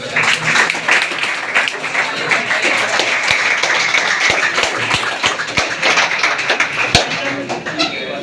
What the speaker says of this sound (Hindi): तो समझ लो, एक बार जोर से ताली हो जाए